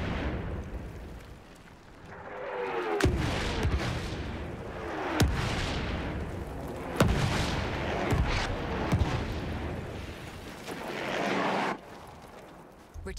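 Enemy artillery barrage in the video game Battlefield 1: repeated heavy blasts and cracking impacts every second or two over a dense, rumbling wash of gunfire and explosions, loud and close, with faint voices underneath.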